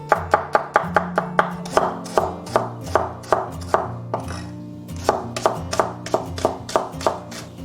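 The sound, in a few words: knife slicing scallion, ginger and garlic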